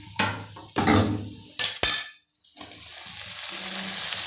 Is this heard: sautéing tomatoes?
yes